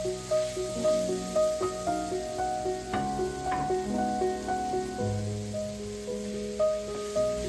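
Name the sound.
sausage and onion frying in a pan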